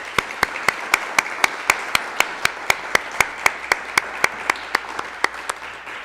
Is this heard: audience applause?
yes